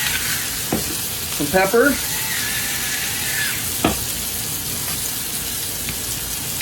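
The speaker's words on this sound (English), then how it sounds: "we're going to sear it now. On both sides." A sous vide cooked steak searing in a hot pan with salt and butter hisses loudly and continuously, with a few sharper spits and pops, while a person briefly speaks over it.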